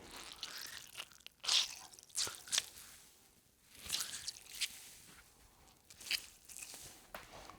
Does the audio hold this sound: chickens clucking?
no